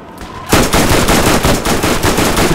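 Sustained automatic gunfire in Borderlands, a rapid continuous burst of shots that starts abruptly after a brief quiet lead-in and stays loud and dense to the end.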